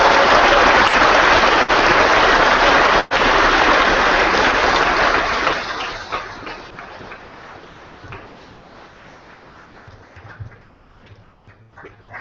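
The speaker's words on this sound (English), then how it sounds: "Let's give them a big round of applause." A school crowd breaking into loud applause for visiting Canadian Olympians, dense sustained clapping that gradually thins out into scattered claps.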